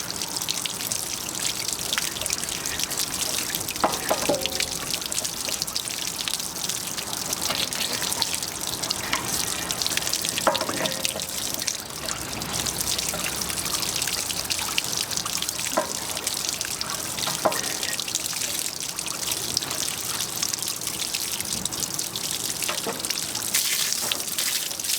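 Water rushes steadily out of an RV water heater, flushing sediment in a close, continuous hissing stream with occasional splashes and gurgles, loud and unbroken throughout.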